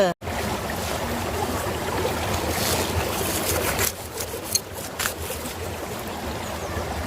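A forest stream flows in a continuous, fairly loud rushing wash, with a few brief handling knocks and splashes near the end.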